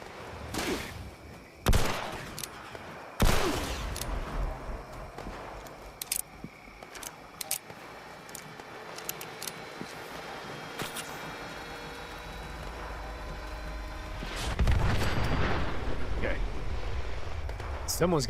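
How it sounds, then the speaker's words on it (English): Pulse rifle-like energy weapon firing in Fallout 76: sharp broadband shots, a few loud cracks early then scattered quieter bursts, with a heavier sustained burst near the end over game ambience. "That thing sounds like a freaking, like a pulse rifle or something."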